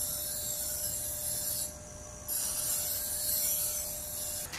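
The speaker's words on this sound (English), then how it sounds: "Go sharpen my knife." Knife blade being sharpened with steady rasping strokes, a continuous close scraping that pauses briefly midway before resuming, with no talking.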